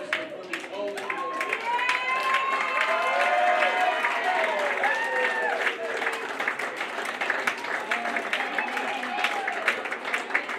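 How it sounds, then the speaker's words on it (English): An audience at a live music show claps steadily for about ten seconds, with scattered cheers and voices mixed into the dense applause. "one more round of applause needs to be given to the person who put this whole thing together"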